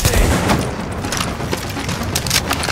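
Loud, close bursts of gunfire and impacts in the video game Tom Clancy's The Division, a dense rattling fusillade with heavy booms, running continuously with faint voices in the mix.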